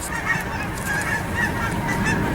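Many geese honk repeatedly as they fly past overhead, a busy chorus of calls overlapping with outdoor background noise.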